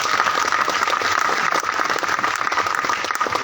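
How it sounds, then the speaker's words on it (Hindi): Audience applause at a live Hindi poetry recital (kavi sammelan), a dense, steady wash of many hands clapping together, loud and sustained from start to finish with no voices over it. "यहाँ ताली बजनी चाहिए थी आपकी।"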